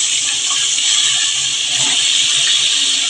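Pointed gourd (potol) pieces sizzle in hot oil, a close, steady bright hiss that holds without pause and no talk over it.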